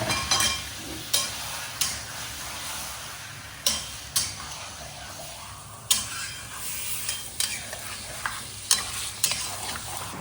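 Marinated mutton sizzles in a pan with fried onions, a steady frying hiss broken by about a dozen sharp spatula scrapes and clanks as it is stirred, with no talking.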